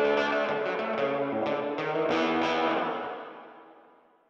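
A plate reverb from an SP140 unit washes over a played instrumental phrase, the wet signal spread wide in stereo, with a lush reflective tail that swells and then decays smoothly to silence.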